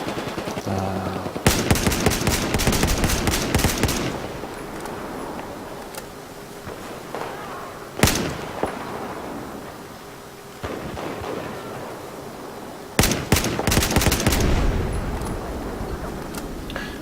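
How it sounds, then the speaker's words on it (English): Rapid machine-gun bursts and heavy gunfire crackle in an organized multiplayer combat scrim video game, coming in loud clustered volleys separated by quieter stretches of background battle noise, with sharp single reports marking the start of each barrage. "Here we got Duke firing off, killing only Tom, trying to move into the Charlie flag with some assistance"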